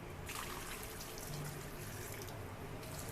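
Water pours steadily into a pot of chicken curry, giving a continuous splashing trickle that stays faint and unbroken for a few seconds with no talking.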